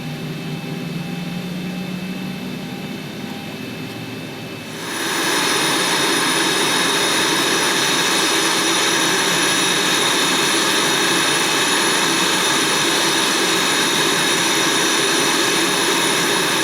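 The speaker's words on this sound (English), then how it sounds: "Looks like both engines are running smoothly." Simulated twin jet engines of a Boeing 737-700 in X-Plane 11 run steadily, a broad, loud whining roar that swells sharply about a third of the way in and then holds constant, with no voices.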